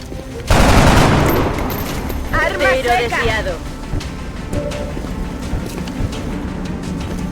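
Soldiers open fire in the XCOM: Enemy Within Long War strategy game, with a sudden loud volley of gunfire that decays over several seconds while softer game sounds continue underneath.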